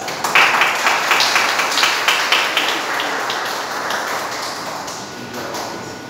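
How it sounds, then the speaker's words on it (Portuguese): A church class audience applauds to welcome a pastor, a close, dense round of hand clapping that starts strong and slowly tapers off over several seconds. "Vamos receber o pastor José com aplausos."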